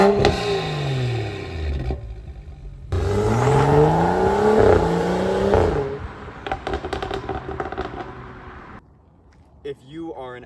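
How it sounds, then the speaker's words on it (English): Exhaust of a BMW F30 335i with the N55 inline-six, recorded from behind the car: loud rising revs climbing and dropping twice, then rumbling crackles as it settles, with a brief voice at the end. "we're at the back of the car to talk about the exhaust, and it's the best part of owning an N55 specifically."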